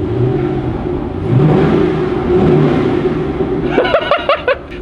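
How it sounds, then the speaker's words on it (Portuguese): A Porsche engine revs hard nearby, a loud sustained roar that swells and holds, then breaks into sharp pulsing blips near the end, with faint voices underneath. "Dá uma aceleradinha, dá uma aceleradinha."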